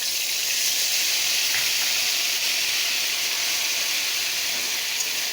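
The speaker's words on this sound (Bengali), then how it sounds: "এই যে আদার একটা কাঁচা গন্ধ চলে যাওয়া পর্যন্ত আমি একটু ভেজে নিয়েছি" Ginger and cumin paste frying in hot oil: a steady, even sizzling hiss that holds at the same level throughout, with no talking.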